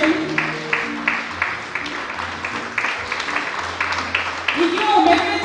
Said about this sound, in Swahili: tuwapigie makofi wageni.